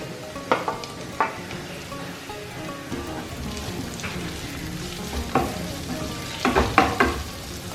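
Chopped tomatoes fry in hot oil with softened onion and coconut pieces for a Thattukada-style beef curry, giving a steady close sizzle broken by sharp scraping and clattering stir strokes.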